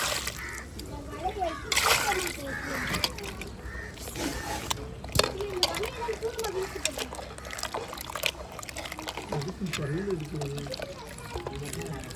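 Water splashes and trickles as squid is rinsed by hand, with sloshing throughout and a person talking over it.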